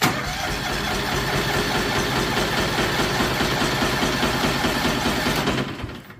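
A John Deere 445 lawn tractor engine cranking over with its spark plugs removed, a steady, continuous rapid churning of the starter and engine that runs loud and near for about six seconds before cutting off.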